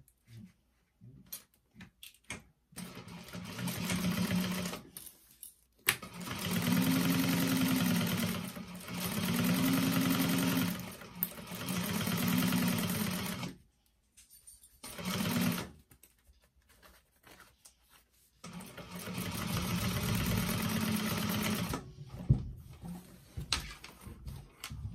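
A sewing machine stitches a quarter-inch seam on a tote bag in several close, steady whirring runs, each a few seconds long, separated by short pauses and small handling clicks.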